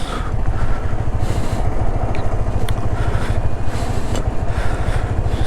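Motorcycle riding on a steep, dangerous mountain road between Keokradong and Boga Lake, a loud close engine drone with rumbling low rhythm and wind buffeting, steady throughout with no talk.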